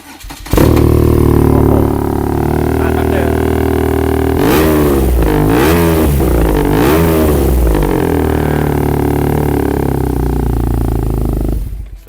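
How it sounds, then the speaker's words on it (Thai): Metallic matte BMW R nineT motorcycle with an aftermarket exhaust, idling loud and close, then blipped through several sharp throttle revs in a row before settling back to a steady idle and cutting off. "มาฟังเสียงท่อฟูกันหน่อย"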